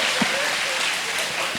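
Short burst of audience clapping at a spiritual talk, a dense, even patter of many hands with no voices over it.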